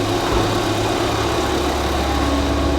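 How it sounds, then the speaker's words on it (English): A Ford Fiesta ST engine runs steadily at idle, a close, continuous low rumble with no other sounds over it. "We have a running and driving Fiesta ST."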